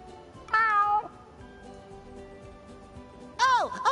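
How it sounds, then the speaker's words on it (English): Gary the snail from the SpongeBob Battle for Bikini Bottom video game gives two distinct meows, clear and loud, separated by a quiet stretch of faint background game sound. "Meow."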